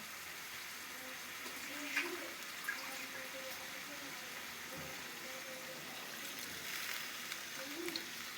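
Water poured into a pan of eggplant curry, a steady continuous rushing hiss of flowing liquid with a few faint clinks underneath.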